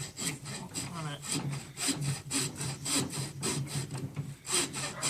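A handsaw cuts through meat ribs in a steady back-and-forth rhythm of rasping strokes, close and fairly loud, with no talking.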